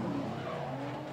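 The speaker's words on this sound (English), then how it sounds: "Both cars make a lot of noise." Drift cars run in tandem during a competition round at Drift Colorado 2018, with engine roar and tire skid noise blending into one continuous loud stretch of racing sound.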